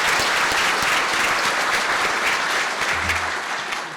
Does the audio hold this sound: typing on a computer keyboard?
no